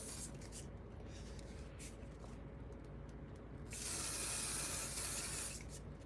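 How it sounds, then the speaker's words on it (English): A quiet background hiss, then a close, sustained hairspray aerosol burst lasting about two seconds before fading back to low noise. "I'm gonna hit this with a little bit of hairspray"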